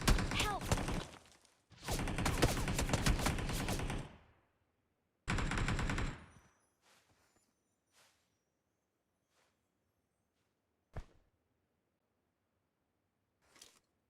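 Bursts of rapid automatic M4 rifle fire in the mobile game BGMI: two long sustained volleys and a shorter one, followed by scattered faint single shots and clicks in near silence.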